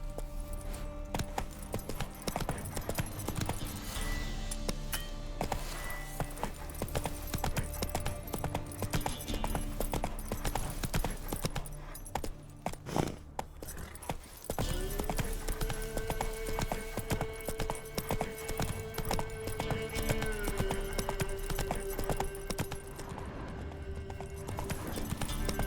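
Roach the horse gallops in The Witcher 3, a steady run of clip-clop hoofbeats held up front throughout over constant game music and ambience, with a sustained tone entering midway.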